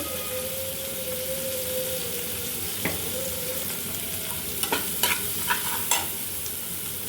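Onion frying in a small amount of oil, a steady close sizzle with a few sharp scrapes and clinks of stirring toward the end, no talk.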